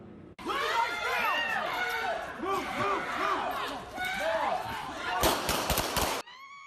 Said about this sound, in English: you will hear several gunshots in this clip as well.